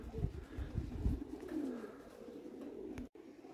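Domestic pigeons coo in low, throaty bursts close by at a loft as the birds are driven out, with some wing and shuffling noise over a fairly steady background.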